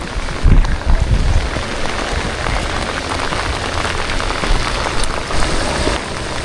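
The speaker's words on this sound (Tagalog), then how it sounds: "talagang malakas po ang ulan ngayon" Heavy rain pours steadily onto surfaces during a flood, a dense continuous hiss with no pauses, loud and close.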